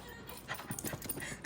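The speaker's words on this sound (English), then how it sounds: "Something tells me there's a puppy in the area." A puppy pants in quick soft breaths with faint whimpers, close by and fairly quiet, with a small bump at the end.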